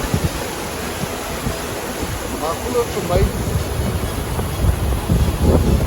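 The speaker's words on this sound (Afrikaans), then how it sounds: "ek kan nou nie die gedruis van die water mooi vas hê" The Vaal River in flood near Parys sends out a steady rushing roar, partly masked by wind buffeting the microphone, while someone speaks over it.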